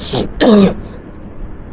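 Two quick, harsh coughs close by, the second deeper and throatier, followed by quiet room noise.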